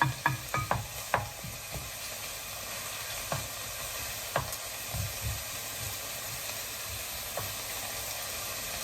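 Tofu, carrots and mixed vegetables sizzle in a frying pan under a steady hiss, with scattered scraping clicks of stirring, a few quick ones at first and then sparser ones.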